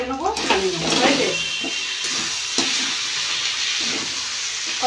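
Muri ghonto, a Bengali puffed rice dish made with Gobindobhog rice, stirred in a pan after ghee is added, a soft sizzle and scraping hiss that continues steadily, with a voice talking briefly at the start.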